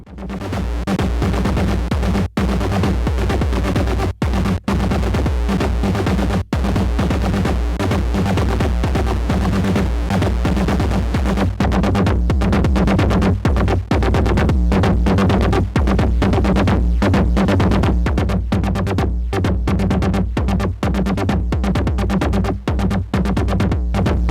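Dense, continuous processed synth texture from an Erica Synths Pico DSP Eurorack effect module, with a droning low end and rapid rhythmic pulsing, loud and steady throughout with occasional brief dropouts.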